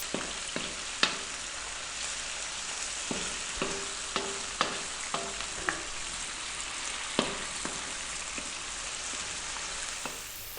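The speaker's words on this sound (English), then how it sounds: "We're going to drop in our onion. And we're going to stay on a fairly high heat, and we're going to go for 3 minutes." Chopped onion frying in a pan over fairly high heat, a steady sizzle broken by regular clicks and scrapes as it is stirred, close and alone without talk.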